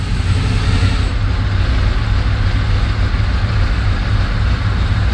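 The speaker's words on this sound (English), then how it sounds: "It's idling at about 750 RPM." A motorcycle engine idling at about 750 RPM after a cold start, a steady loud low rumble heard up close throughout, with no voices.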